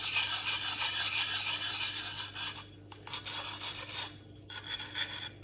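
A sharpening stone rasps back and forth along the blade of a bill hook in repeated strokes, close and clear, with brief pauses between passes toward the end.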